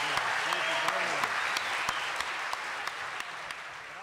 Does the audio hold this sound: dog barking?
no